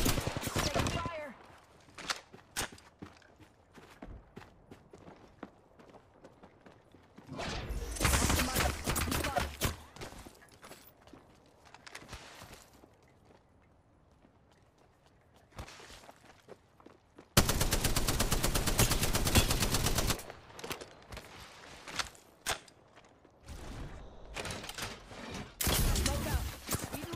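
Bursts of automatic gunfire in a PC shooter game, loud rapid volleys separated by quieter stretches with scattered single shots and thuds, voices speaking between the firing.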